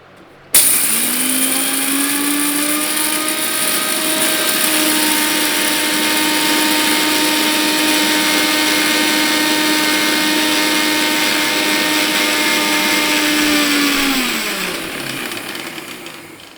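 An electric mixer grinder whirs steadily while grinding soaked green gram into batter for a health-mix flour, a loud sustained motor drone that starts abruptly and winds down after about fourteen seconds.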